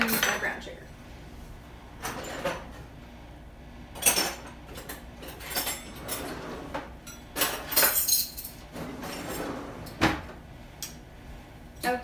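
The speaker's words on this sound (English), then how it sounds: "I'm gonna grab a new tablespoon because this one's wet." Cutlery clinking as a fresh tablespoon is grabbed in a kitchen, with scattered sharp metallic rattles and clatters, some louder, over faint background noise.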